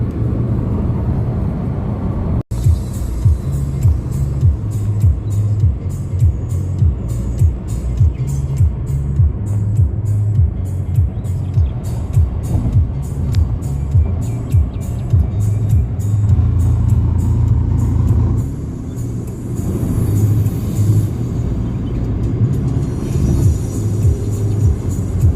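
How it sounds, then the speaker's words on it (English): Electric hatchback, an Ignis EV conversion with a 23 kWh battery, cruising at highway speed with the AC on: a steady, loud low road and tyre rumble with wind noise, surging slightly and briefly easing near the end. "which gives it the capability of traveling at highway speeds with AC"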